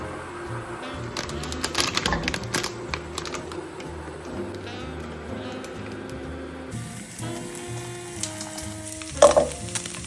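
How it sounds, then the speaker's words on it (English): Instant noodles stir-frying in a pan for dinner, a steady close sizzle with scraping and clattering of utensils, sharper clinks near the end, no talking. "So for dinner, I'm making a bit of a stir fry."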